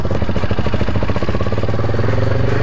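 A quad bike engine chugs steadily and close while the quad turns at very low speed, with an even low putter and a slight rise in pitch toward the end.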